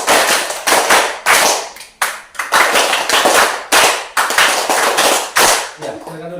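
A group of people in a classroom workshop claps in a counted rhythmic game, sharp bursts of hand claps in short grouped sets separated by brief gaps, loud and close.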